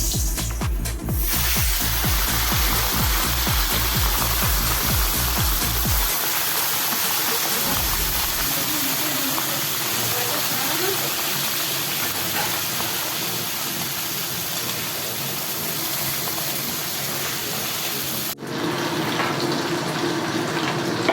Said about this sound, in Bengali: মাছগুলোকে একটু ভালো করে ভাজতে হবে